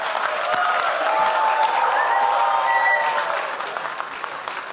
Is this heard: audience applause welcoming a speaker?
yes